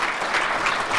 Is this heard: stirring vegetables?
no